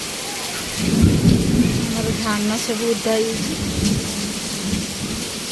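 Heavy rain pours steadily with rolling thunder rumbling through it, loud and close, while a person talks over the downpour.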